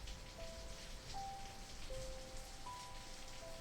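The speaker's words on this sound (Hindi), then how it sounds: "बारिश की आवाज एक लोरी की तरह लग रही है।" Steady rain falls outside, a dense even hiss of drops on surfaces with a few faint tonal whistles above it, continuous and moderately distant with no voices.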